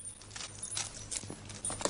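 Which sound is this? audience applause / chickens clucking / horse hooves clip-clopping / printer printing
horse hooves clip-clopping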